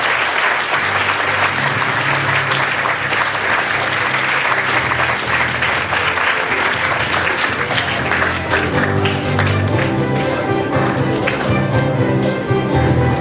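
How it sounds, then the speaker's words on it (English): Loud, sustained audience applause fills a hall after an Everest Investment team finishes a university Q&A competition round, dense continuous clapping that carries on strongly for many seconds, with a faint voice underneath near the end. "Another round of applause for Everest Investment"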